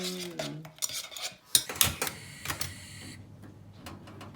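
A spoon stirs Turkish coffee and water in a small pot, making a run of light metallic clinks and scrapes that are close and fairly quiet, followed by a softer clatter.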